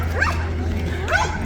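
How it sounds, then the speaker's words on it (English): Little dogs held by people at a parade before Alaskan bathtub races yip and whimper in short high bursts over a steady crowd murmur and low hum, with people talking nearby. "There's a bunch of people holding little dogs."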